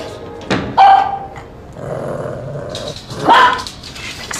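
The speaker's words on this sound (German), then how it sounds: "Das ist der Hund vom Herrn Menzel" A dog in a German TV crime drama growls low and lets out a couple of loud sharp barks, close and clear, with a thump in between and no speech.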